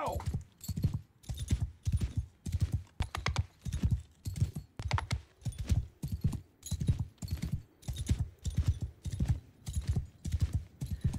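Horse hooves pound in a steady, rapid galloping rhythm throughout, loud and close, from a mount in the video game Mount & Blade 2: Bannerlord, with no talk over it.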